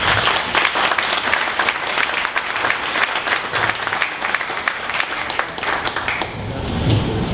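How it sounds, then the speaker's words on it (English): A conference audience applauds presenters at a 1 Million Cups Dallas startup pitch event, giving steady, dense clapping that continues throughout and fades slightly toward the end. "One more round of applause for Optologix."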